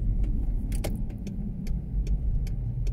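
A car on the move gives a close, steady low rumble of road and engine noise, with occasional clicks and rattles inside the cabin.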